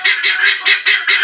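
Pet guinea fowl calling in a rapid, repeated series of harsh, nasal honking cries, five or six bursts in quick rhythm, loud and close with no talking.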